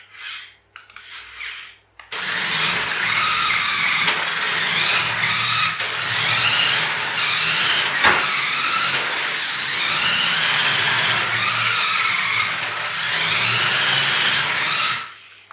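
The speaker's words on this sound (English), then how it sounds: "at least I can check that the motor still works in that gearbox" Small electric motor of an RC FastLane Jeep Cherokee toy car, run indoors inside its gearbox, whirs steadily and loudly for about thirteen seconds after a few brief stuttering starts, then cuts off.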